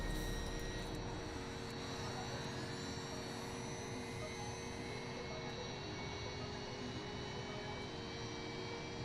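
Twin jet engines of a Caproni Vizzola C-22J in Microsoft Flight Simulator 2020 spooling up, a steady loud roar with rising whine tones that holds unbroken throughout.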